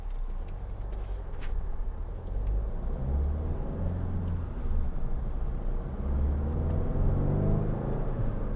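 A 2013 Hyundai ix35 1.7 CRDi diesel drives along with a steady low engine rumble and road noise, heard from inside the car, with no talk.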